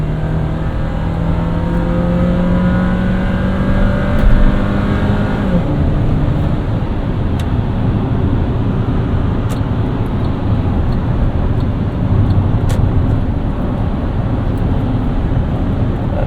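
A 2012 Suzuki Grand Vitara Limited with a 2.4-litre engine and four-speed automatic accelerates hard, heard from inside the cabin as a loud, continuous engine drone that climbs in pitch, shifts, then holds beneath heavy road and wind roar.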